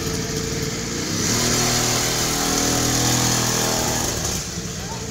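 A 50cc two-stroke kids' dirt bike engine starts and runs at a steady, buzzing idle, loud and close, swelling slightly mid-way before settling.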